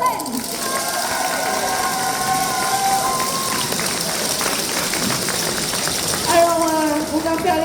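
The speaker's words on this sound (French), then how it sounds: "Et on applaudit bien fort aussi nos copains" Audience at a Yosakoi dance performance, Geeklife Le Mans convention, applauding and cheering the troupes, a steady dense wash of clapping and crowd noise, with a voice speaking over it at the start and again near the end.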